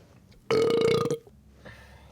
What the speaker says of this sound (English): Are girls not allowed to belch?